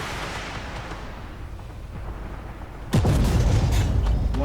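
A big shell hit lands on an MBT 70 tank in the video game Armoured Warfare, a sudden loud boom cutting in after a steady rumbling engine background, then a heavy sustained roar.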